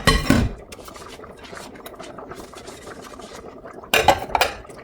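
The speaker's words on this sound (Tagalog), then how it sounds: "So, ito yung mga plato na gagamitin namin." Plates handled and clinking together, with a loud clatter at the start and again near the end and quieter rubbing and scraping between, close by and with no talk.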